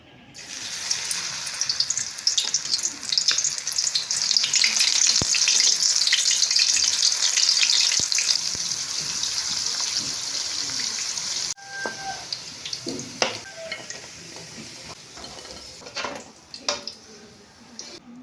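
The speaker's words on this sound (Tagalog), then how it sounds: "I-crispy fry po namin yan. Calamares." Squid rings for calamares hiss and crackle loudly as they deep-fry in hot oil, a steady dense sizzle that drops off partway, followed by scattered pops and clatter.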